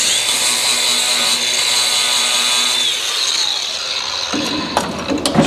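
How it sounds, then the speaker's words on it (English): An angle grinder whines steadily and loudly while working on car front end parts in a garage, its pitch sagging partway through before the tool spins down amid a few clanks. "Need a grinder."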